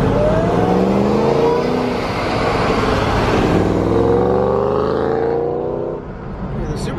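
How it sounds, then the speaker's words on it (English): Ford Mustang GT500 with a supercharger whine rising over a loud engine drone as it accelerates alongside at a car meet, close and sustained, fading slightly near the end. "the supercharger whine"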